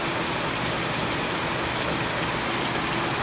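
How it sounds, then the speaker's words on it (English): The segmented platen head of a DMC Technosand 53-inch wide belt sander runs loudly and steadily, a dense rushing roar with a low rumble underneath that stays even from start to finish. "Now the segmented platen head's turned on."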